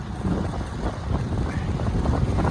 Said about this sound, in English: other than this wind, the weather is beautiful